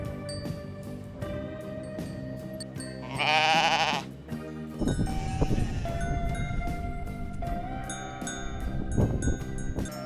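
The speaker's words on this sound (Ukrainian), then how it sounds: "а в нас тут такі кізочки гарненькі" Goats bleating on a Hutsul mountain pasture, a loud close bleat rising clearly over a busy backdrop of shorter calls, bells and animal noise, with no one talking.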